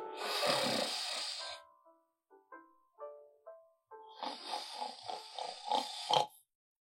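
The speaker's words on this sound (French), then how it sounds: "Tu te plains du fait que je ronfle." A person snoring, with loud rasping snores separated by short gaps, then a run of quicker, gurgling, grunting snores, heard close in a quiet room.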